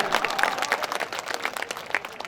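An audience at a BJP workers' conference in India claps in dense, continuous applause for a couple of seconds, moderately loud with no speech over it.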